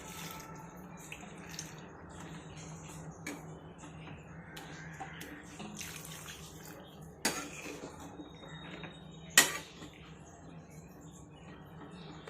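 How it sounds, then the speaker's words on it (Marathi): Hot water poured into a pan of bitter gourd, a faint watery trickle and splashing with soft metal clinks of the pan, plus a couple of sharper clatters near the end. "आता याच्यामध्ये आपण हे गरम पाणी टाकून घेऊयात"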